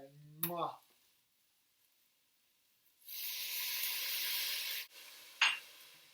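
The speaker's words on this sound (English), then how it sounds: "Let that deglaze." A hot pan sizzles as apple cider vinegar hits it for deglazing, a bright steady hiss lasting a couple of seconds before cutting off, with a brief voice and clatter around it.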